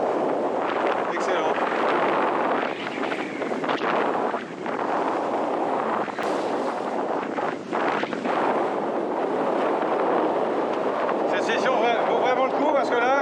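Strong wind buffets the microphone while wingfoiling on the water, a continuous roaring rumble with gusty swells, and someone speaks briefly over it.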